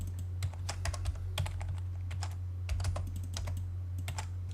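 Steady typing on a computer keyboard while entering values in AutoCAD, crisp close key clicks in quick irregular bursts over a constant low electrical hum, no talking.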